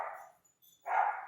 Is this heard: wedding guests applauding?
no